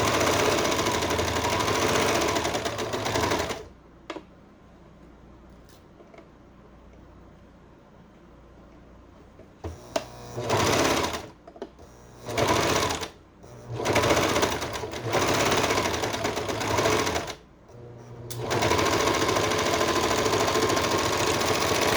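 A serger sewing machine stitches bell bottom pant seams in loud, fast whirring runs, first a long one, then a quiet pause, then several short bursts with brief stops between.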